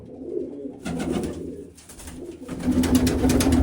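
An injured female pigeon in a loft, still alive but struggling, gives soft, throaty coos in repeated bursts close by, rising in strength toward the end.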